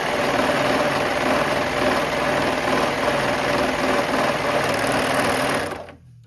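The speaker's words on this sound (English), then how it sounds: "I'm finishing it off with my serger" A serger overcasts and finishes the raw edge of fabric in a steady, fast mechanical whir that runs loud and close throughout, then stops abruptly near the end.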